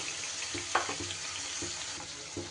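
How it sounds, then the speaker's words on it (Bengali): Coriander-cumin spice paste hits hot oil in a pan, giving a steady broadband sizzle with a few soft clinks and splashes mixed in, close and even throughout. "ধনে জিরে গুঁড়ো যে পেস্টটা করেছিলাম সেইটা দিয়ে দিলাম তেলের মধ্যে"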